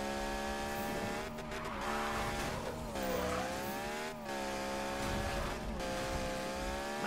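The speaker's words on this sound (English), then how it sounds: "A little drift action going" A car drifts in Need for Speed, its engine revving hard with rising and falling pitch as it slides, a continuous loud motor drone with brief tire-squeal gaps and no talk.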